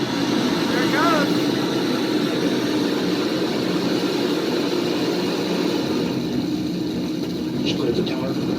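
SpaceX rocket launch carrying the SAOCOM 1A satellite from Vandenberg Air Force Base in California, heard from about ten minutes away as a steady distant low roar and rumble that fills the whole clip, with a few faint voices over it.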